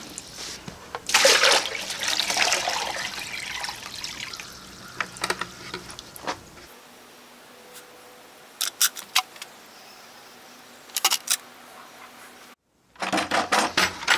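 Tap water runs and splashes into a bucket in a workshop, a steady pouring rush for several seconds that then stops, followed by sparse clicks and knocks and a final burst of splashing.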